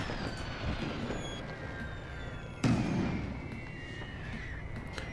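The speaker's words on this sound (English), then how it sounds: "I think the reason for all this explosion, these are the mortars." German mortar explosions on a World War I battlefield in the strategy game The Great War, a steady rumbling barrage with one sharp, heavy blast landing near the middle.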